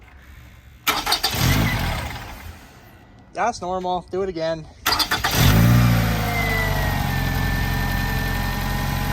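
A 2015 Scion tC fitted with a new Torque Solutions front motor mount cranks and fires at about five seconds, then settles into a steady, close idle; people talk briefly beforehand.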